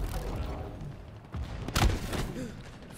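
Dynamo grenade explosions and gunfire in a large team battle of a sci-fi shooter game, with several scattered bursts and one sharp loud blast standing out amid ongoing combat noise.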